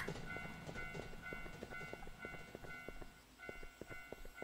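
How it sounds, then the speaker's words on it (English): A train in the video game Teke Teke rolls past with a rhythmic clickety-clack of wheels over rail joints and a sustained tonal hum, moderately loud and alone without talk. "Oh, it's a train."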